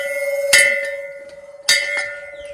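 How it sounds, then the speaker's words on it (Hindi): A temple bell hanging from a ceiling is struck twice, each clear metallic strike ringing out with a long sustained hum that lingers between hits, close and fairly loud with no talk. "ये अभी मैं घंटी बजा के दिखाऊंगा आपको"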